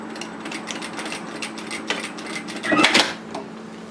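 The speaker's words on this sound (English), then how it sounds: "just stitching it down through the existing line of stitching on your binding tape" A sewing machine stitches a strap down through binding tape in quick, light mechanical ticks and rattles, building into a brief louder burst near the end, close and moderately quiet over a faint steady hum.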